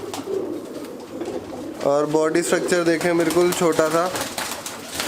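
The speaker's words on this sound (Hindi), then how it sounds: "और क्या शानदार कबूतर है, एक नंबर का।" A male Madrasi pigeon coos in soft rounded bursts close by, while someone talks over it in Hindi.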